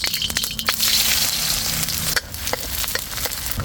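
Garlic, ginger and onion hit hot cooking oil with a loud, busy sizzle, interrupted by scraping stirs and a sudden burst of crackle partway through as more goes into the pan.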